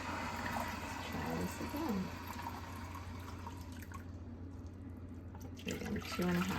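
Kitchen tap running water into a measuring cup for bread dough, a steady broadband rush lasting throughout, with a low background hum and brief quiet talk near the start and end.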